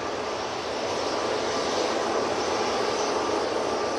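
A landing airliner at Manchester Airport gives a steady broadband roar of engine and rushing air, moderately distant and unbroken, with no voices.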